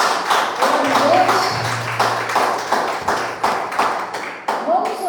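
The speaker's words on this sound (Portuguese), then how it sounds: "Então, pessoal, vamos aplaudir o Senhor" Church congregation applauding during a Portuguese-language worship service, a steady patter of clapping hands over about five seconds with voices and faint background tones underneath.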